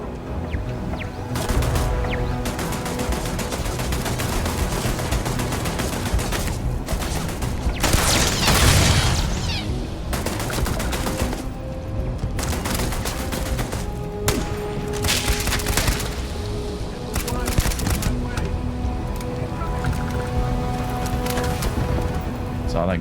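Rapid gunfire and grenade blasts from the video game Starfield rattle on continuously, with a heavier burst near the middle, all mixed with a game soundtrack and voices.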